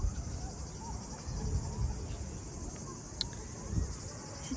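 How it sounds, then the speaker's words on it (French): Cicadas buzz in a steady, high, continuous drone near Roses in Spain, heard from an outdoor terrace with a view. Faint low rumbles and small scattered sounds sit beneath the insect chorus. "avec les cigales qui chantent"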